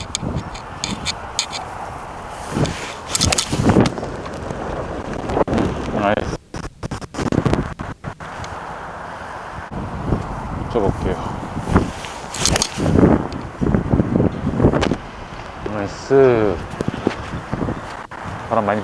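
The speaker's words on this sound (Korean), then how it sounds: "상당히 많이 불거든요. 앞바람이요." Strong headwind on a golf course buffets the microphone in rough, gusting roars, with scattered footsteps and faint muffled voices under the blowing.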